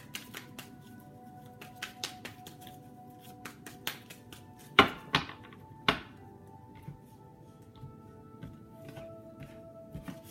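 Tarot cards being shuffled make quiet, scattered flicks and riffles, with a few sharper snaps near the middle, in a quiet room with no talk.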